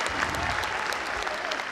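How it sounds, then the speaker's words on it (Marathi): Loud, steady applause from a school annual function audience, a dense continuous clatter of many hands filling the whole stretch without a break. "एकदा जोरदार टाळ्या झाल्या पाहिजे"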